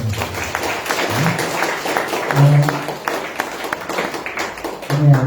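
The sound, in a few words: church congregation applauding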